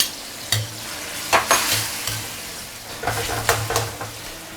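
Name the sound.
diced tomatoes added to a cooking pot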